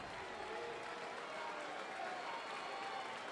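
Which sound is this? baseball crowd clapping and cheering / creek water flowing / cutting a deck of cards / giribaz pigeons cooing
baseball crowd clapping and cheering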